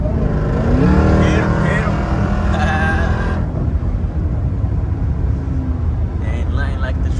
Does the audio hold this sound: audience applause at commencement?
no